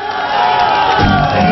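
A dance-class crowd cheers and whoops after a bachata performance, a loud continuous roar of many voices that swells further toward the end.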